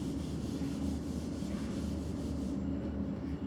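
An eraser rubs writing off a board in a continuous, close scrubbing sound that holds steady for a few seconds before easing off.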